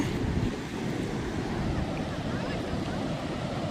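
Sea waves wash in a steady, low rushing roar, mixed with wind, with no clear voices, on the coast near Harsiddhi Mata temple.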